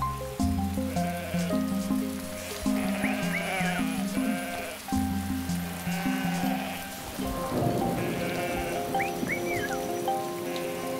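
Flock of sheep bleating as they are herded to pasture, repeated close and distant bleats over a constant patter of rain, with a loud rumble near the end.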